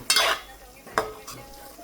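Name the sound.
stirring masala with coriander in a pan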